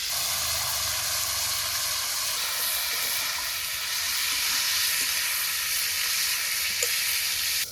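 Ginger paste, slit green chilies and chopped tomatoes hit a hot wok and sizzle loudly and steadily up close, with occasional faint stirring clicks and no speech.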